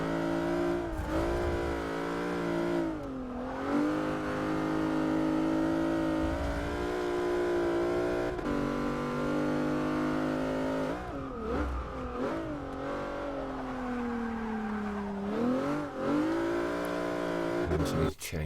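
A Plymouth Prowler in Forza 6 revs and accelerates through repeated gear changes, its engine tone rising, dipping at shifts and climbing again, with someone talking over the steady engine drone.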